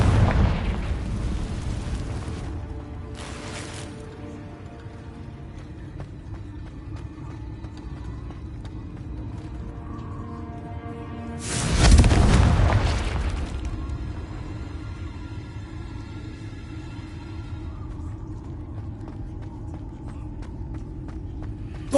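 Spell blasts from the Confringo fire charm in Hogwarts Legacy: a sharp booming burst early on and a heavier explosion midway, with rumbling debris and softer game ambience filling the gaps.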